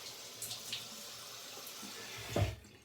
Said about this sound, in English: Gonna wet the face.